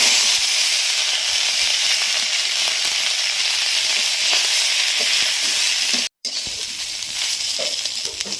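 Cauliflower and potatoes tipped into hot oil with a little cumin paste, a loud, steady sizzling roar filling the pan up close, broken by one brief cut of silence before the frying hiss resumes.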